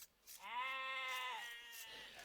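A single drawn-out sheep bleat from a strategy game, clear and fairly close, rising then holding steady for about a second before trailing off, with no talk over it.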